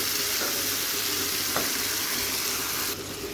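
Tomato chutney sizzles steadily in a frying pan while being stirred, with a soft scrape of the spoon midway and a slight drop in the frying hiss near the end; no one speaks.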